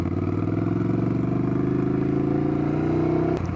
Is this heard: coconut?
no